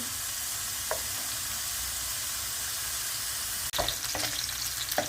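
Lamb pieces sauté in their own rendered fat and olive oil, giving a continuous close frying hiss with a few soft stirring knocks and a brief clunk near the end, for a lamb and okra dish.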